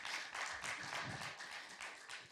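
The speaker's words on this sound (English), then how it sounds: "If we can just give him one big round of applause for attending" Faint, steady applause from a conference audience in Kigali welcoming a remote speaker, a soft continuous patter of many hands lasting about two seconds.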